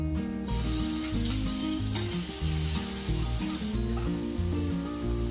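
Onion with garlic, cumin and hing frying in oil for a red spinach dish gives a steady, close sizzle, with music playing over it and no talk.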